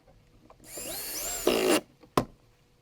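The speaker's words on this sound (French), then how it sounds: "je vais percer visser au milieu de ma pièce support." A power drill whines up into a chipboard panel, boring and then driving a screw, with a loud rising high-pitched whir, a grinding bite into the board and a short final burst, close by.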